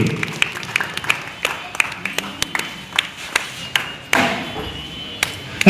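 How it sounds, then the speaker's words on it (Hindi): Scattered claps from a small audience welcoming someone as they stand and walk, sparse and uneven rather than a full ovation, with sharp separate hand strikes and some background murmur. "आप तालियां से स्वागत करेगा"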